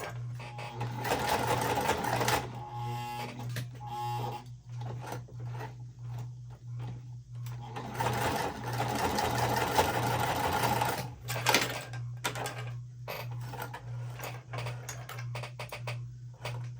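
A sewing machine stitches a pool tote using a regular presser foot, running in long steady bursts with brief pauses between seams, close and loud.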